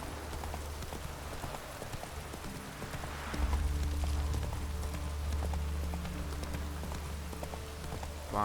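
Roach, a horse in The Witcher 3, gallops with a rapid, steady clip-clop of hooves over an ambient game background, with a low rumbling layer joining partway through, moderately loud and without talk.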